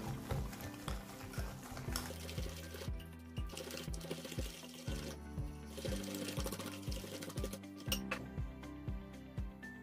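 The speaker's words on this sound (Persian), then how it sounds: "خوب مخلوطش میکنم" Milk being mixed into bamieh dough: a rhythmic, repeated churning and clacking of a utensil working through wet batter in a bowl, steady and fairly close, with no talk.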